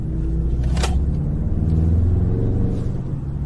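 A Mercedes S 63 AMG drives through city streets, its engine producing a deep, steady low rumble heard from inside the car, loud and continuous with one brief sharp click near the start.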